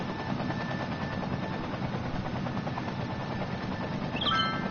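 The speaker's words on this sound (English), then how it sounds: "Just look how many helicopters there are." Helicopters flying over a disaster-struck city in the city-building game Cities: Skylines, a continuous rapid rotor chop that stays steady and fairly loud throughout, with no voices over it.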